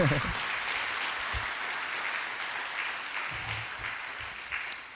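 A church congregation applauds during a Korean Sunday worship service, a steady wash of clapping from many hands that holds evenly for several seconds, with a few low thumps of voice or movement near the start.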